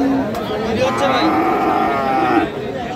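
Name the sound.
Friesian cross bull calf mooing at Raniganj cattle market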